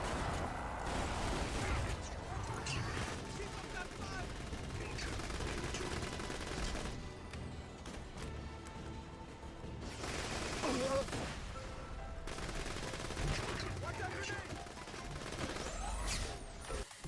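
Gunfire from an M90 in the video game Azurelands 2, a steady barrage of shots running through most of the stretch with a few brief lulls, loud and close, mixed with other game effects.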